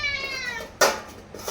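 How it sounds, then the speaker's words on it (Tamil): A pet cat gives a clear drawn-out meow up close, followed by a short clatter and a second brief cry, in a home kitchen. "நம்ம பூனை வேற கத்துது"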